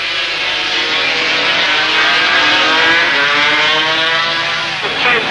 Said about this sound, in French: Lucinelli repasse Roberts à l'intérieur